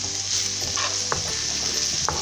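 Chickpeas fry and brown in a pan, giving a continuous loud sizzle broken by a few sharp scrapes and knocks of a utensil stirring them.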